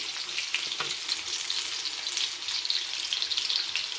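Pastel pastries frying in hot oil give a steady, dense sizzle with fine bubbling crackle, close and continuous throughout with no voices.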